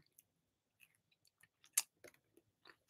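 Crunchy bites and chewing on a fresh Fuji apple come as sparse, close, crisp crackles and clicks, with one sharper crunch midway, in a quiet room.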